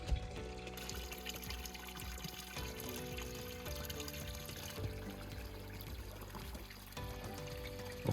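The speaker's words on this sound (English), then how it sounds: "Obviously this water here is the overflow." Overflow from a newly found, well-kept spring in Spain pours and trickles steadily, a continuous close splashing stream of water running the whole time without talk.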